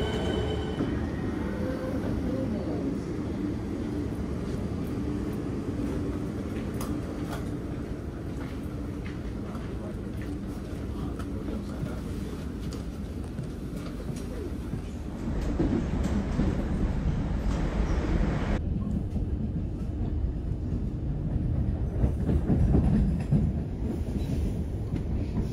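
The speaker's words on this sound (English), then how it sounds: "the next train arrived in about 5 minute time" A train rumbles steadily nearby with rail noise and clatter, growing louder as it pulls in, with a high whine over the running sound, in Melbourne.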